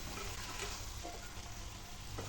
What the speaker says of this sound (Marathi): आता यामध्ये आपण चवीपुरतं मीठ टाकूया हे जरा मिक्स करून घ्यायचं आहे